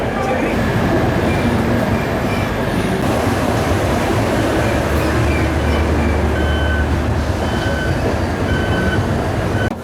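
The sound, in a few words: double decker train 22625 departing Chennai Central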